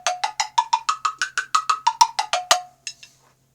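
A wooden block instrument struck with sticks produces about fifteen quick, bright, evenly spaced knocks, close and loud, ending in a couple of fainter taps.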